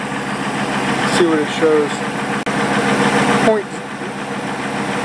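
A vehicle engine idles steadily during a battery tester check of alternator charging voltage and ripple current, a continuous low rumble under a man's nearby speech.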